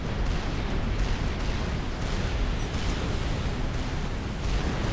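Ravager artillery guns fire in Supreme Commander: Forged Alliance, dense overlapping booms and blasts forming a continuous loud rumbling barrage with no talk.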